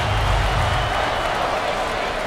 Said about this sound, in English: This is what I call home court advantage. The crowd is on their feet.